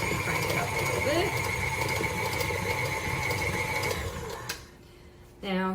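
Electric mixer beating sticky carrot ginger cupcake batter after the fourth egg, a steady loud mechanical whir running for about four seconds before cutting off, followed by a brief voice.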